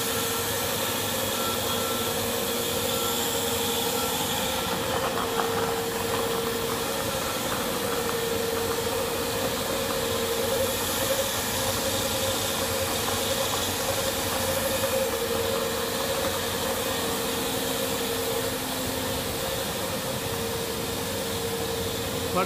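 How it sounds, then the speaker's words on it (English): Continuous machinery drone from a plastic extrusion line, its motor driving a synchronized automatic single cutter, with steady hum, hiss and tonal whine held at an even level throughout, no voices. "We have a motor which drives further and it is synchronized with the cutting."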